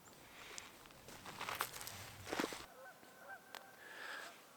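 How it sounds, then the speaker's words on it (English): Geese honking on the water in winter, several faint, scattered honks and calls from nearby birds along with light rustling footsteps. "I'm just kind of sitting here watching the geese and the ducks out in the water"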